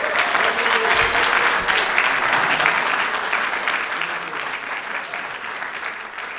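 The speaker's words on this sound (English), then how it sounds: "can we get a big round of applause for student filmmaking?" A festival crowd at a university student film event breaks into loud, dense applause that gradually tapers off, with faint cheering mixed into the sustained clapping.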